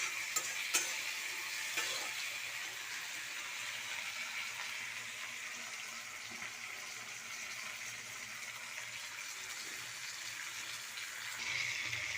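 Tomato frying with vegetables and potatoes in a pan, a steady, even hiss of sizzling oil lasting throughout with a few faint stirring touches, close and moderately quiet.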